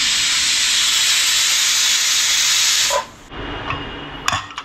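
A pressure cooker vents steam in a loud, continuous close hiss for about three seconds, then cuts off, followed by quieter clinks and handling sounds.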